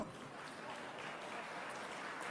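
Steady, dense clapping from a crowd, fairly faint and distant, continuing evenly with no voices on top.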